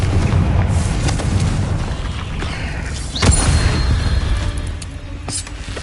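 The Confringo fire spell in Hogwarts Legacy bursts as a deep, loud boom with a brief crackle partway through, set within a dense, rumbling combat soundscape.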